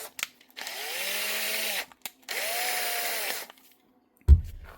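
A power drill, a customer's repaired tool, is switched on at high speed with its chuck being tightened; it whines in two steady bursts of about a second each, followed by a single short thump.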